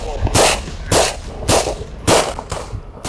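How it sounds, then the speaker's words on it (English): Five sharp gunshot-like bangs at roughly half-second intervals, loud and close, each with a short ringing decay; short bursts of gunfire from a trench during fighting between Ukrainian and Russian forces. "Occasional short bursts of gunfire could be heard from the trench"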